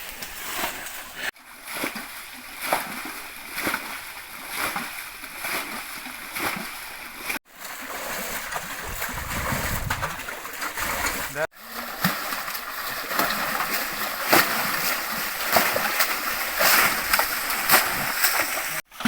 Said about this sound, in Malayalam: ഈ തേകുന്ന സമയത്ത് ഈ വെള്ളം ഇങ്ങനെ കോരി ഒഴിക്കുന്ന സമയത്ത്